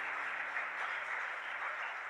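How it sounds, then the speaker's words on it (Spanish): A church congregation applauds, a steady, even wash of many hands clapping together, moderately loud and continuous throughout. "Denle un buen aplauso a la palabra del Señor"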